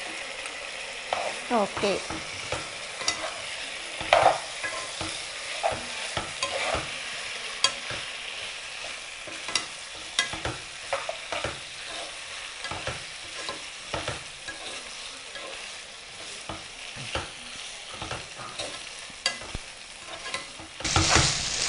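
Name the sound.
chicken added and frying with sorrel in a pan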